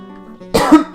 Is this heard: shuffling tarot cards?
no